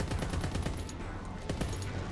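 LAD machine gun firing in Call of Duty WWII, a rapid continuous stream of loud automatic shots, near and sustained throughout.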